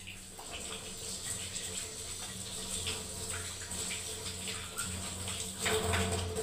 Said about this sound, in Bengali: এবারে হাতটাকে ধুয়ে নিচ্ছি বন্ধুরা তা করতে।